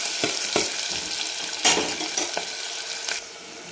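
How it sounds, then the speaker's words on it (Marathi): A medium chopped onion sautés briefly in a pan with a crackling sizzle. Several distinct stir scrapes and knocks sound close by. "एक मीडियम साईजचा कांदा आपण कट करून घेतला आहे तो टाकू आणि ह्याला आपल्याला लाल करायचं नाही, थोडासा फक्त 1 मिनिटभर परतून घ्यायचं आहे"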